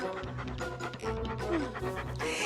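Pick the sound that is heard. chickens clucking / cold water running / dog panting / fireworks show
dog panting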